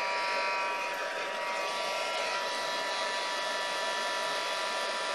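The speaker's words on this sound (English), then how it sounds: "Takes a while for the heat gun to heat up, but once it heats up you'll be able to see the image actually change." A heat gun blows hot air onto embossing powder on a stamped card, giving a steady, loud motorized whir and hiss that holds constant throughout without pauses.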